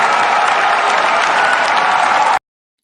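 A canned applause sound effect triggered by a cheer button: dense, steady clapping from a crowd at full volume for about two seconds, then cutting off abruptly into silence.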